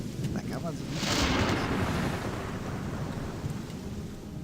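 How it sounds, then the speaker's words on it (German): Rain falls steadily in the video game Gothic 2 while a deep rumble of thunder rolls through, loud at first and then fading under the continuous patter. "Oh, es regnet natürlich wieder."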